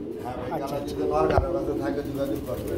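A pair of dun-coloured pigeons coo in soft, rolling, throaty phrases close by, repeating over a few seconds while a person talks over them.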